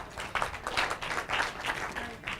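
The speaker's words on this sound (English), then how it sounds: "Give her a round of applause." Audience applause at a business talk on crafting marketing messages, a short burst of clapping from a seated crowd, moderately loud and uneven for about two seconds.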